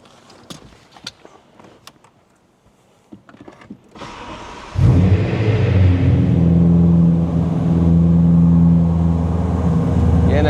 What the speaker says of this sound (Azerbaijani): elə kapot açıq vəziyyətdə maşını işə salaq, o pure soundu da sizi eşidəsiz istəyirəm